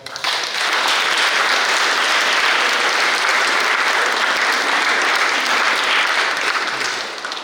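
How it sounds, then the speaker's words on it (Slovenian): Steady applause from a church congregation during a pilgrimage Mass in Porčinj, honoring pilgrims from Vipava. It builds quickly, holds dense and even throughout, then eases slightly at the end. "da zaslužijo en aplavz prav."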